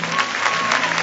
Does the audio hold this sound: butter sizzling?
no